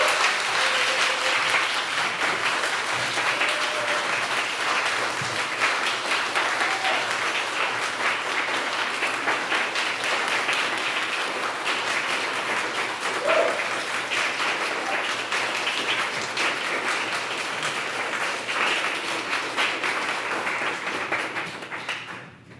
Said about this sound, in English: so we can all give you a round of applause